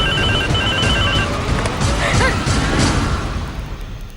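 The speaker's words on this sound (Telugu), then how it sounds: "ఇందాక నుంచి ఫోన్ చేస్తుంటే తీయకుండా ఏం చేస్తున్నారు" A telephone rings in a household scene of a Telugu TV serial, an electronic ringing pattern repeating through the first half, with crashes and thuds mixed in loudly nearby.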